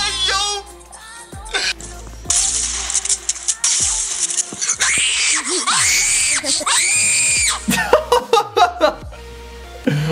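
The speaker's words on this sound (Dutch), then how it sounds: "Dit is echt een heel hoog gegil." Very high-pitched shrieking screams from a played meme video about Brawl Stars ring out in repeated loud bursts, mixed with chuckles and clattering noises, while someone talks over parts of it.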